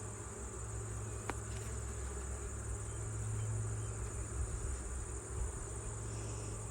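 Steady, soft buzzing hum of honey bees in an open hive during an inspection, continuous and close throughout with no voices.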